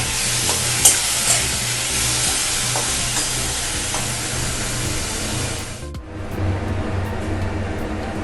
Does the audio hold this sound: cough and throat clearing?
no